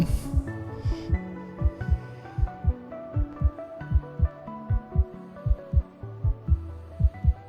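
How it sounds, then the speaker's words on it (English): Steady heartbeat from a horror video game, Nemeses, thumping as a regular double-pulse rhythm that stays loud and close throughout, with a low hum droning underneath and no talk. "I hear heart beating."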